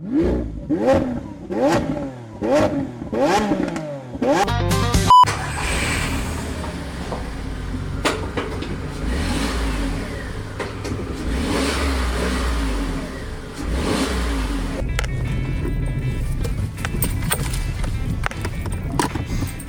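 A car engine revs in several rhythmic bursts, then roars steadily and loud up close, with some voices partly underneath.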